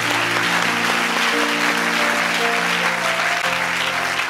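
A church congregation applauds loudly and continuously in acclamation of the Lord, with sustained musical tones running underneath the clapping throughout.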